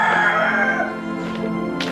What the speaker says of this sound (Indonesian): mau kasih makan ayam jago yang paling hebat yang pernah Bapak punya